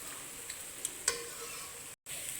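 Mutton frying in a pan with chili powder masala for a Madurai-style mutton gravy gives a steady, close sizzle with a few faint clicks of stirring, then a brief cut to silence near the end.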